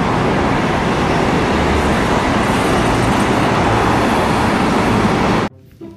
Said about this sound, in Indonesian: Mobil bus tingkat, teman-teman.